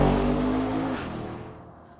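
A Camry and a Malibu launching side by side at a street legal drag strip, engines roaring loud and close at the start, then fading steadily as the cars pull away.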